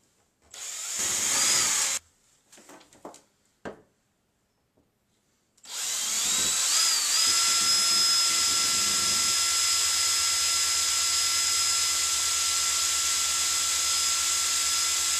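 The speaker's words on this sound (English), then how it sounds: "I'm going to drill 3 holes, front, center, and back." A power drill bores three holes through a shower pan during a bathroom remodel. A few short bursts are followed by a long, loud, steady high whine that runs to the end.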